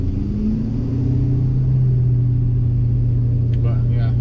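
Steady low exhaust drone from a 2017+ Ford Super Duty pickup cruising at normal driving speed, a continuous rumble heard from inside the cab, with a faint brief click near the end.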